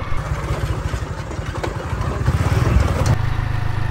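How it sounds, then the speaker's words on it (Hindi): A motorcycle engine runs steadily while being ridden along a rough, dirty road, a loud continuous low throttle drone with a slight rise toward the end and no talk. "मैं मोटरसाइकिल चला रहा हूँ"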